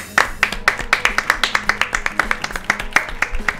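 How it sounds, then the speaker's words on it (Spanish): A small group claps for about three and a half seconds, a brisk rhythm of sharp overlapping hand claps, close and fairly loud in a studio show setting. "Un aplauso para Panam, por favor."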